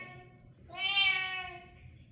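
A hungry cat gives a single drawn-out, rising meow, close by and clear over a quiet room.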